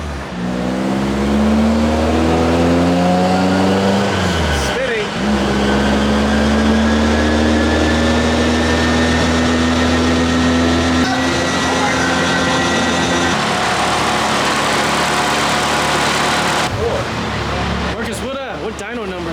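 Toyota AE86 engine on a dyno, revving hard through rising pitch sweeps, dropping back and climbing again several times at close range, with people talking over it.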